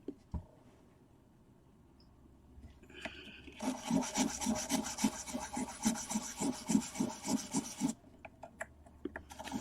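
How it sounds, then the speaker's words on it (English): Rhythmic rasping strokes of sandpaper rubbing on wood, steady back-and-forth scratching that starts after a few quiet moments and continues briskly. "sanding one spot too much."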